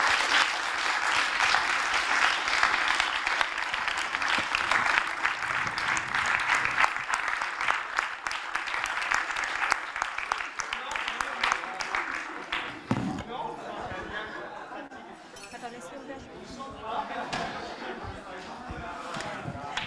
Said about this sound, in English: I'm going to finish with another round of applause